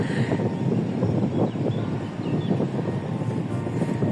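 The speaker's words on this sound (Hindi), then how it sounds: "बहुत तेज हवा है।" Strong wind buffets the microphone outdoors by a Swiss village and farm, a loud, rumbling roar that gusts unevenly throughout.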